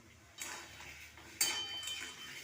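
Papaya stirred in a pan with salt and turmeric: metal utensil scraping and clinking against the pan in a few short bursts, close and fairly quiet, with no voices.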